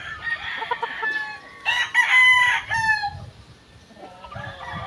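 A fighting rooster crows several times, loud and close, with harmonic cock-a-doodle-doo calls rising and falling in the middle of the stretch and soft clucking and faint farmyard noise around them.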